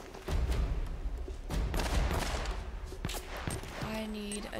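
Gunfire crackles through a firefight in Uncharted: Drake's Fortune, a steady run of shots and low booms over about four seconds, fairly loud, with a brief tonal game sound near the end.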